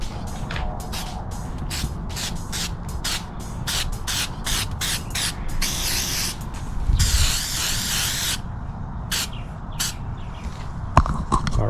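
Aerosol protective coating sprayed onto a restored car headlight in long hissing bursts, several short sprays followed by two sustained ones, close and fairly loud, with small clicks and handling noises between passes.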